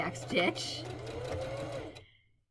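A sewing machine back-stitches off the fabric while sewing a front dart, a short close whirring run under a voice talking, then stopping abruptly into silence.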